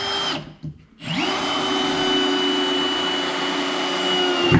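A power drill drives screws into a shelf backboard in a workshop, whining close and loud, cutting out briefly, then restarting and running steadily.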